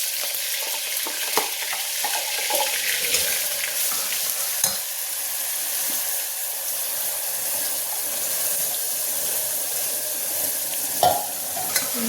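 A ground spice paste with ginger and garlic fries in hot oil after fennel seeds, giving a loud continuous hiss and crackle. Occasional stirring knocks come through, and no voices are heard.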